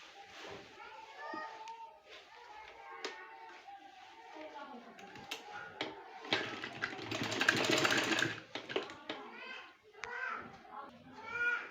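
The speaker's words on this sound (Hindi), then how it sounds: "अब स्टिचिंग स्टार्ट करें।" Sewing machine stitching a cutwork trouser design, with rapid mechanical whirring bursts that build to a sustained run midway, under intermittent nearby speech and children's voices.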